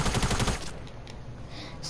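Rapid gunfire in a custom-mode shooter video game, a fast regular burst of close, loud shots for about the first second, then trailing off into quieter game noise.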